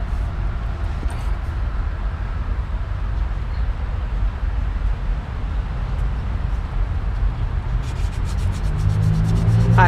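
A differential housing is scrubbed clean with steady, continuous abrasive rubbing close by, unbroken for several seconds, with a faint mechanical hum rising toward the end.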